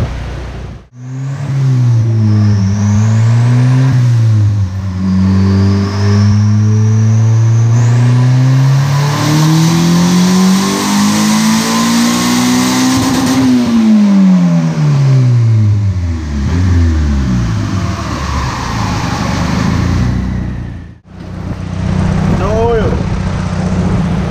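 A 1986 Honda CRX with a turbocharged LS-VTEC engine revs hard on a dyno, pitch climbing steadily through a long loud pull, then dropping off as it backs down, with a short pause before a final rev.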